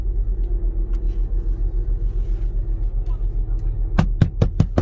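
A car on a street in Enugu rumbles nearby with a low, steady engine drone, while people talk over it and a burst of sharp knocks ends the sequence.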